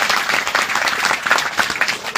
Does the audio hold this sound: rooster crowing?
no